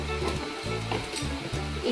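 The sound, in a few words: spices frying and sizzling in a pan with ground coriander added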